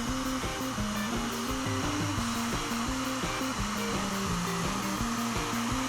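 A heat gun blows a steady, loud roaring hiss close by while shrinking a plastic cowl for a model plane, its pitch wavering slightly as it is moved around, with no talk.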